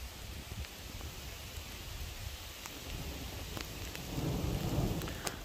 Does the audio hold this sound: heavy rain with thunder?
yes